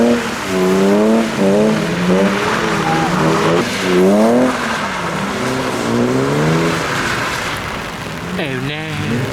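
Several BMW E36 cars drift around a roundabout, engines revving hard and wavering up and down with tire squeal while they slide in continuous loops. The sound is loud and close, with no talking.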